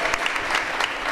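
Audience applause at a devotional Sai bhajan concert, a steady wash of hand clapping from a crowd, dense and sustained with no talk over it.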